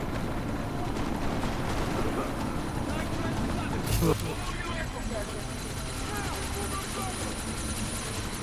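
A helicopter in the video game Deus Ex: Mankind Divided, flying during a sandstorm, makes a dense, steady rotor drone that fills the whole stretch, with a brief sharper burst midway.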